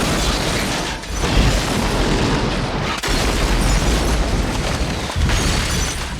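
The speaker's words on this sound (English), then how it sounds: "which has, I think, the biggest fucking explosion I've ever seen" A huge film explosion from the bomb-thriller Blown Away: a dense, roaring blast with heavy low rumble and crackling debris, sustained loudly for several seconds with brief dips.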